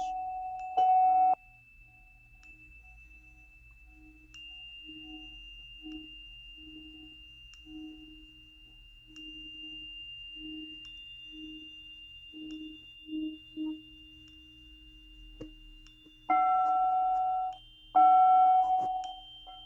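A metal singing bowl is struck on the rim during a sound bath, with a few bright strikes that ring into long, pure sustained tones, alone and fairly close.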